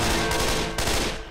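Sustained gunfire at zombies in a Left 4 Dead 2 versus match, a loud, dense, continuous barrage with a brief break midway, close and dominant with no talk.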